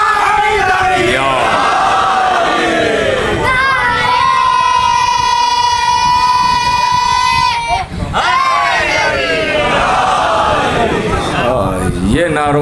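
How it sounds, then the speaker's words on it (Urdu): A large gathering at a religious majlis on Fatima Zahra roars slogans in unison, loud sustained massed voices rising and falling with a long held shout in the middle and a brief drop before the chanting resumes. "یہ نعروں والی انجمن بڑی مضبوط ہے"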